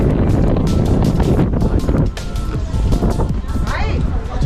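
Wind gusting in Marpha, a village in Nepal's Mustang region, roaring steadily and loudly against the microphone with a broad low rumble throughout, easing slightly midway.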